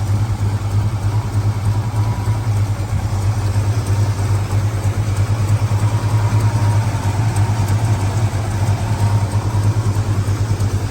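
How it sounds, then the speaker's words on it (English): A 1971 Ford Mustang Mach 1 with a 429 Cobra Jet V8 idles steadily up close, a loud, even low rumble holding without a break for the full stretch, with no talking. "Engine running nice and smooth."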